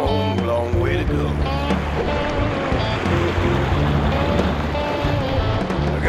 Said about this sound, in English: A lot of waves happening in there.